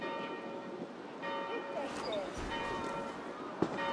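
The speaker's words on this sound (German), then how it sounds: "Hörst du nicht die Glocken?" Church bells ringing in the video game Assassin's Creed Valhalla, a steady metallic tolling beneath a wash of ambient background noise.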